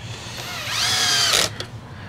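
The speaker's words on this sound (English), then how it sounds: "Where is my drill?" A power drill runs on a Dyson DC17 vacuum during reassembly, driving screws with a steady whining buzz that rises and holds for about a second before stopping, followed by a brief click.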